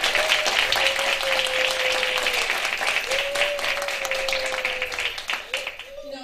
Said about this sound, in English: I want to give her a round of applause now.